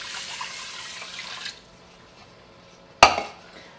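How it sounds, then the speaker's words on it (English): Two cups of water poured into an Instant Pot over rice, a brief close splashing pour that stops partway through, followed by a sharp clink against the metal pot. "And I'm gonna put 2 cups of water."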